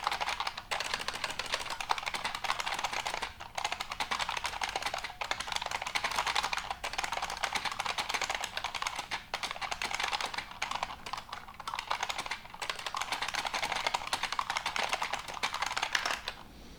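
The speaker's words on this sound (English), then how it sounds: "So even typing 116 words a minute, which I do, I can still do it better" Fast typing on a computer keyboard, close and continuous, with rapid dense key clicks and short pauses between bursts.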